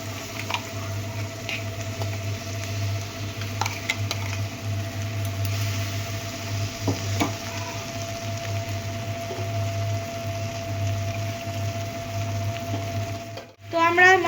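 A blended masala paste for restaurant-style butter chicken sizzles in a pan, giving a steady, close frying hiss with soft stirring patter. A sharp clatter comes near the end.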